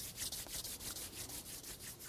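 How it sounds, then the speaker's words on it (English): Palms rubbed briskly together to warm them during a qigong exercise, a close, steady rhythmic swishing of skin on skin with no talk. "Rub the hand warm."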